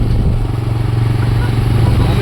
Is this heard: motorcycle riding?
yes